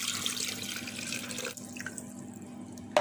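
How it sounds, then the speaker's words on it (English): One cup of water pours steadily into a blender for about a second and a half, then stops, leaving quiet drips and faint trickling before a small clunk. "I'm gonna throw 1 cup of water in it"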